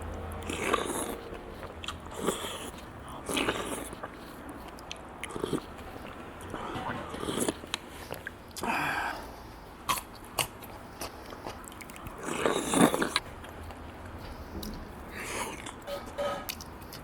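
Makchang and pisundae with soup and rice mixed in are eaten at a Korean restaurant: soft, quiet bites and chewing recur steadily, with light crunches and squishes close to the mic.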